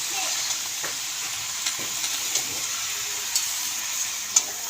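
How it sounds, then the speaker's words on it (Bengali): Spinach and other vegetables stir-fry in a pan, a steady bright hiss of sizzling with occasional light clinks of a spoon against the pan. "সবজিটাকে এবার ভালো করে আমরা ভাজবো"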